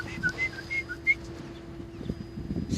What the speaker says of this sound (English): See what happens when you whistle?